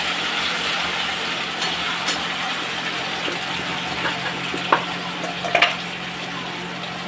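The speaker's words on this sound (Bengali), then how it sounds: "মশলাটা এবার কষিয়ে নেব" Ground spice paste frying in a pan for a pachan dish, a steady bright sizzle with a low hum underneath and a few sharp ticks and spatters toward the end.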